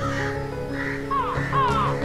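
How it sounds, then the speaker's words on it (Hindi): A few harsh crow caws ring out in the second half, over steady low background noise, as crows flock to a bowl of kheer. "अरे ये इतने सारे कौवे कहाँ से आ गए?"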